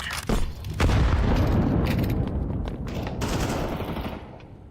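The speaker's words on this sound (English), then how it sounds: "Throwing a grenade. Throwing fire. Grenade out." A video game grenade explodes amid rapid gunfire, a loud sustained rumbling blast with crackling shots layered on top that slowly fades out.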